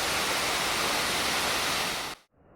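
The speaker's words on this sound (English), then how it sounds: "this beautiful waterfall located deep inside the dense jungles of Uttarey" Waterfall deep in dense jungle at Uttarey, Sikkim, where beehives hang near the falls; a loud, unbroken close-up roar of rushing water that cuts off abruptly near the end.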